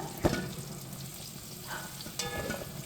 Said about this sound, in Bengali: বেগুনগুলো আমি ভালোভাবে নাড়িয়ে চেপে ভেজে নেব